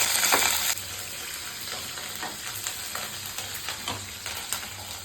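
Urad dal and green chillies fry in a hot pan with a steady close sizzle, punctuated by repeated light scrapes and clinks of a stirring spoon against the metal.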